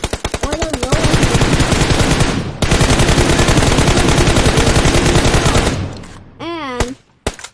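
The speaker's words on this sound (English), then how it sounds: "Team 9 and Team 23 is shooting all they got at them" Video game gunfire during a team scrimmage match: rapid bursts of automatic fire dominate, loud and continuous, with a short break before firing resumes; a few scattered shots and effects near the end.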